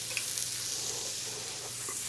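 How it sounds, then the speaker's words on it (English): Steady close-up sizzling of onions frying in a hot pan, a constant crackling hiss with occasional small pops. "got my onions sizzling over there"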